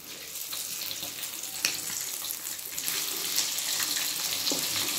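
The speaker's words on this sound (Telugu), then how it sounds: "ఒకవైపు అయితే ఫ్రై అయిపోయినాయి, ఇంకో వైపు కూడా తిప్పేసుకుంటే మనకు సూపర్గా ఫ్రై అయిపోతుంది ఫ్రెండ్స్" Pomfret fish frying in a pan, a continuous close sizzle and crackle that grows slightly louder as the pieces are turned, with faint clinks from the utensils.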